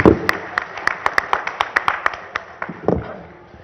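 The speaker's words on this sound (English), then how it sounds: "Let's have a round of applause for the last session." Audience applause at a news broadcasters' national conclave in New Delhi closes a session: a dozen or so sharp, separate claps spaced out in a steady pattern rather than a dense ovation, with some murmured voices underneath.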